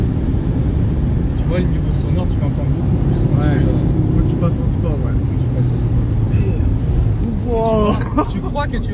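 An Audi RS3 Stage 1 in sport mode hums with a low engine drone beneath near, continuous conversation from occupants inside the car, with a rising whine toward the end.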